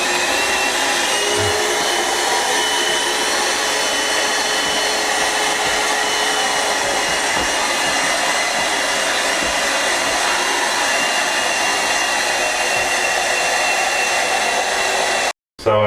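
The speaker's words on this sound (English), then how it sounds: "our rechargeable vacuum's got about a 20-second battery life" A small rechargeable handheld vacuum whirs loudly and continuously for about fifteen seconds, then cuts off abruptly.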